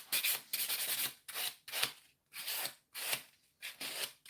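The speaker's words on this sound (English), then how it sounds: "So the white buffer does most of the job in smoothing out." White nail buffer smoothing hard gel nails during extension removal, with repeated close-up rasping strokes in an uneven rhythm of about eight passes separated by short pauses.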